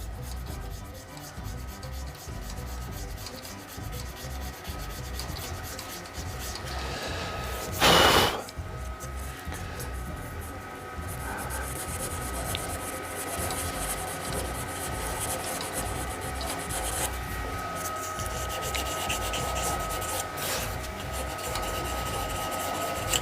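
An epoxy resin and wood shaving brush handle is sanded while spinning on a wood lathe, producing a continuous rubbing hiss with one brief louder scrape partway through.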